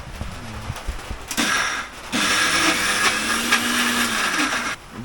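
A blender grinds soaked lentils (dal) into batter for fritters, running in a short loud burst, pausing briefly, then roaring steadily for several seconds before cutting off.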